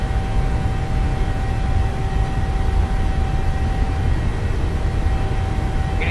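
Boeing 737-800 on its takeoff roll in Microsoft Flight Simulator, a steady broad engine roar with a faint constant whine, even and unbroken throughout with no talk.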